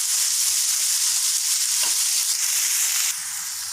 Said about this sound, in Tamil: வெங்காயம் நல்லா கோல்டன் ப்ரௌன் ஆகிற வரைக்கும் வதங்கணும்.